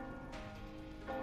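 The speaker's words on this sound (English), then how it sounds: "The bells rang louder and more fervently." Church bells ring in a video game scene from Reverse: 1999, a sustained, resonant tolling that swells louder toward the end, heard without any voices.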